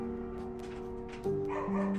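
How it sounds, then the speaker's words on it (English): Dogs barking in the distance, a few short muffled yips and woofs over a steady low hum. "Dogs barking and everything."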